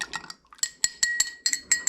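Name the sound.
stirring cocktail with bitters in glass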